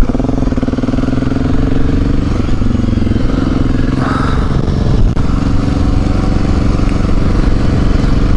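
A motorcycle engine revs hard and holds a loud, steady drone while the rider attempts a wheelie, the throttle surging briefly around the middle. It stays close and continuous, with some mechanical clatter and no talking.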